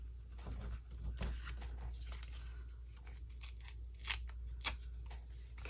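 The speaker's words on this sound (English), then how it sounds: "Might need to tear just a smidge more." A sheet of paper is torn by hand while making envelope pockets. The quiet ripping and crinkling come close by in short bursts, with two sharper tearing snaps near the end.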